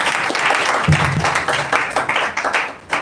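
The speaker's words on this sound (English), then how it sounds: "applause for you, please." A university pharmacy association audience in Jos gives a speaker a round of applause, loud dense clapping with some louder individual claps that swells and fades over a few seconds.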